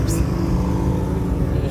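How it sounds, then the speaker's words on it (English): Constant low rumbling drone of a car exhaust, steady and close for a short stretch, with a voice underneath. "the exhaust pipe is making noise"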